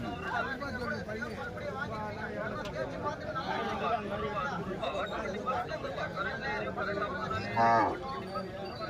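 Calves and cattle moo repeatedly over a steady crowd hubbub at the Madrapalli cattle market, with people chattering nearby and a louder, closer moo near the end.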